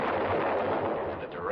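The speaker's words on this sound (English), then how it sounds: "The 75 recoilless rifle." A 75 recoilless rifle fires on a Korean War battlefield in 1951, a single heavy, booming blast that rolls and rumbles for a second and a half, with a voice talking faintly underneath.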